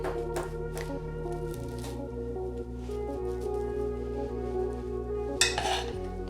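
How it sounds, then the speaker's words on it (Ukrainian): A spoon scrapes and presses rice into a dish for a sushi cake in a few soft, uneven strokes, with a steady low hum running underneath and a brief clink near the end. "утрамбовую рис"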